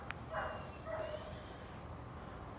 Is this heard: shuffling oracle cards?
no